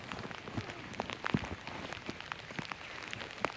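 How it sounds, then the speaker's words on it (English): Rain falling outdoors on an autumn walk across the East Sussex South Downs, a steady dense patter of drops hitting surfaces nearby, continuous and moderately loud with no voices. "And here comes the rain."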